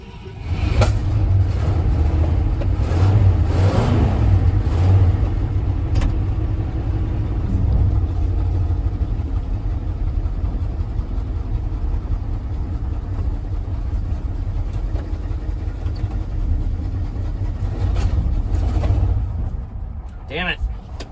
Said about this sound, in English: Carb is definitely not happy because it just backfired out the intake.